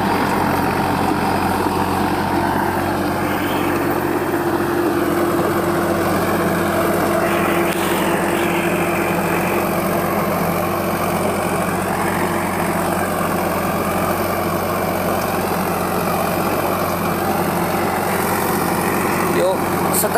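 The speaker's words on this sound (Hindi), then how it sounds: "7 फुट रोटावेटर है, देख लो।" A Sonalika 35 tractor engine drones steadily and loudly throughout with a 7-foot rotavator churning, a constant mechanical rumble that never lets up.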